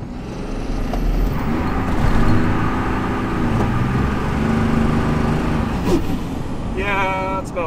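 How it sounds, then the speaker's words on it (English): An 850 HP common-rail Dodge Cummins diesel truck with upgraded fueling doing a rolling burnout on a road: a loud, sustained, close engine roar, with a higher whine rising near the end. "it's about 400 feet of rolling burnout"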